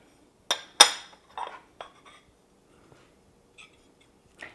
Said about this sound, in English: you want to take a sharp knife and just run it around the edges inside the ramekin to loosen the cake